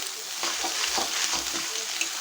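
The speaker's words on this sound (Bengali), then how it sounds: "এখন আমি চাউমিন অল্প অল্প করে ছেড়ে দেব, দিয়ে ভালো করে নেড়ে চেড়ে নেব।" Egg chow mein noodles are being tossed in a hot pan, producing a soft, steady sizzle with light rhythmic spatula strokes, close by and free of speech.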